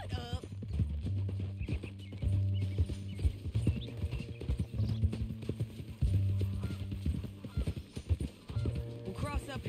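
Horse hooves clip-clopping at a steady trot in the Red Dead Redemption video game, a continuous near rhythm under a low musical drone with scattered game sounds.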